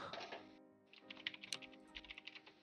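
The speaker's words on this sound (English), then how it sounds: "We hear you typing." Typing on a computer keyboard, picked up through a voice-chat microphone: after a short pause, a quick run of sharp, close clicky keystrokes taps out an uneven rhythm, with faint tonal background sound underneath.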